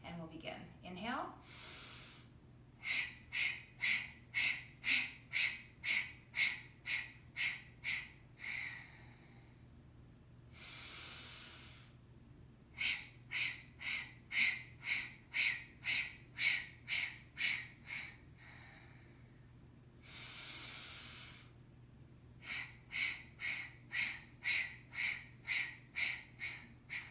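Kapalabhati yoga breathing: three rounds of about a dozen sharp, rhythmic forceful exhalations through the nose, close and clear, each round closed by a long, slow audible breath.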